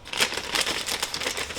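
Dull kitchen scissors snipping and crinkling open a plastic bag of chocolate chips, a close series of quick rustling cuts.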